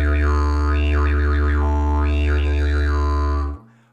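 Close, loud didgeridoo drone with a steady deep fundamental, while tongue movements sweep bright overtone harmonics up and down in wavy, vowel-like patterns, holding for about three and a half seconds before stopping abruptly.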